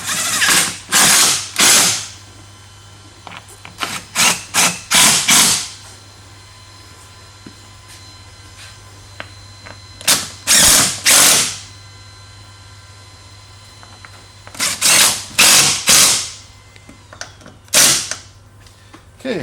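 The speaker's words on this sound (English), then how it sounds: "I like using a ratcheting combination wrench" A ratcheting combination wrench tightens bolts on a golf cart seat, sounding as loud bursts of rapid ratchet clicks that come in separate groups with pauses between them, close to the listener.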